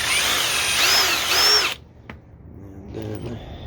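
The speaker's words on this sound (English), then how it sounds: "Take a 3/16 drill bit," A power drill fitted with a 3/16 bit whines steadily at high speed for under two seconds, then stops, followed by a faint click and quieter handling noises while repairing a fallen closet wire shelf.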